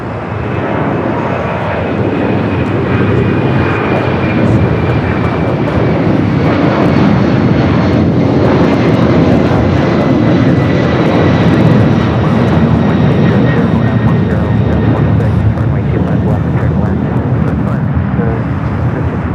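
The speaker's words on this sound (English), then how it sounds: "We just don't see too many Delta 767s taking off here on the south side." A Delta Boeing 767 jet takes off at LAX on the south side, its engines a loud, steady roar that swells and sustains throughout, with a voice talking over the noise.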